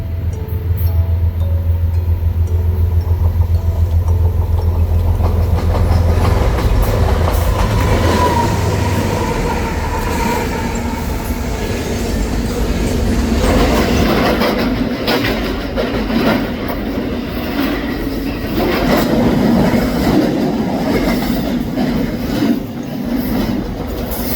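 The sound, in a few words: CSX freight train I-162 led by locomotive 5284 passing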